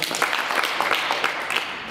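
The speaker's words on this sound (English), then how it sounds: "Please clap for me." A school class claps together, a quick burst of individual hand claps at a brisk, slightly uneven rhythm, fairly close and lasting about two seconds.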